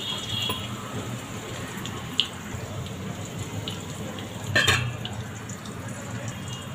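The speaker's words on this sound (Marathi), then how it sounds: "ही कारली मी छान तेलामध्येच परतून घेणार आहे" Bitter gourd sautéed in hot oil makes a steady, moderate sizzling hiss. A couple of brief clinks or pops stand out, and no one speaks.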